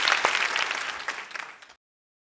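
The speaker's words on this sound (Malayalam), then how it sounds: "കോൺഫിഡൻസിന് ഞാനൊരു വലിയ കയ്യടിയാ തരുന്നു" A studio audience claps and cheers for a singer on a televised music competition finale, a dense burst of applause that thins out and stops abruptly near the end.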